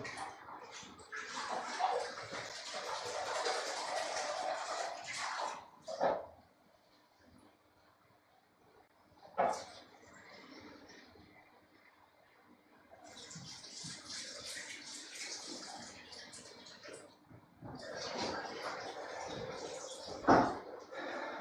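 Tap water running to rinse paintbrushes, a steady splashing rush that comes in long bursts with quieter pauses and a few sharp clunks in between.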